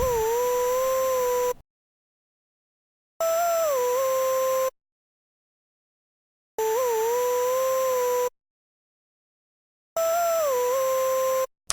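A Serum synth lead using the Freestyle Serum Bank preset called succubus plays a dark, sliding pattern in four short repeated bursts, separated by silent gaps.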